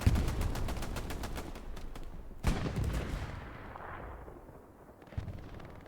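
Smoke artillery shells land on the Utah Beach map in a competitive World War II shooter match. One sharp blast opens the clip and another follows midway, then a rumbling tail fades into distant battle noise.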